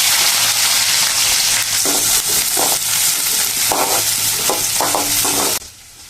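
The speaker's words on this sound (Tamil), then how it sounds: "பச்சை மிளகாய் போடலாம் இப்போ வெங்காயம் போட்டுக்கலாம்" Onion and green chili frying in a pan with mustard seeds: a steady, fairly loud sizzle with bursts of stirring and scraping throughout, alone until it drops off sharply near the end.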